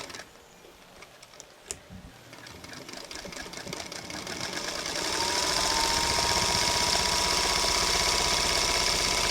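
A sewing machine stitches a quarter-inch seam in tightly woven batik fabric for a face mask, starting with a few slow stitches and clicks and then rising into a loud, steady, fast whirr held to the end.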